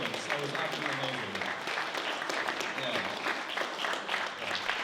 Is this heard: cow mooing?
no